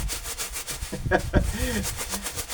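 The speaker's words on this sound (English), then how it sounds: "shake the grass seed carton, this will remix the seed that may have settled in the transit" A cardboard carton of evergreen grass seed is shaken, giving a steady rustling, rubbing hiss of loose seed shifting inside throughout, with a brief voice murmuring partway through.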